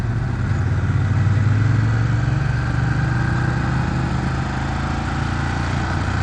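A vehicle engine drones steadily as the driver downshifts, a loud, continuous mid-pitched hum with a slight pitch sweep, heard up close with no talking.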